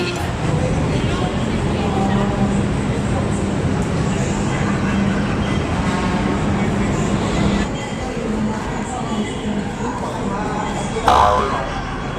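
Steady rumble of an LRT light rail train running in Manila, a continuous loud roar of wheels and motor with faint voices beneath, shifting slightly near the end.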